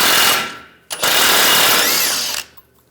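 Power tool spinning off a tie rod nut with a 21mm socket on a 2011-2018 Ram 1500 front suspension, two loud continuous whirring bursts separated by a brief pause, close up and alone.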